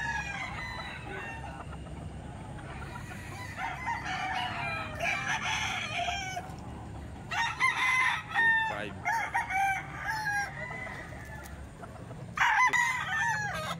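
Bullstag gamecocks at a busy Saturday fowl market in Baliwag crow again and again, overlapping calls rising in bursts near and far above a constant background hum of people and birds.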